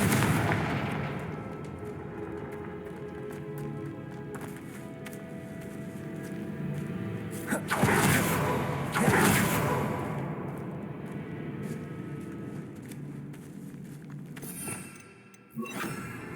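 Confringo fire spell blasts in the video game Hogwarts Legacy, heavy booming explosions with whooshes amid a loud battle din, no speech.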